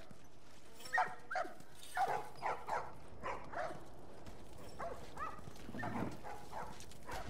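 Dogs in The Last of Us Part 1 video game bark in a series of short, separate yelps and woofs at moderate distance, set against a low ambient background with no talk.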